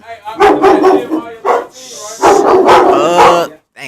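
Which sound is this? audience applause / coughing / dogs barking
dogs barking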